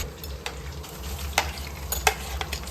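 Onions dropped into hot oil for a chicken curry, frying with a soft continuous sizzle and occasional stirring scrapes and clicks, close and fairly quiet, no talking.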